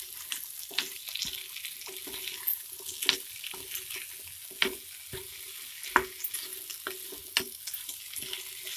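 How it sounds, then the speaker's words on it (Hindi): Chickpea masala seasoned with salt and sugar is stirred in a hot pan, a steady sizzle broken by repeated scraping and spoon clinks against the metal. "सारी चीजों को अच्छे से मिलाएंगे।"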